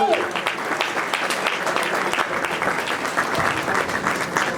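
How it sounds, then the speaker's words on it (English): Audience at a county candidates night forum applauds steadily, a dense even wash of many hands clapping that holds for the whole stretch. "a round of applause for everybody who showed up tonight"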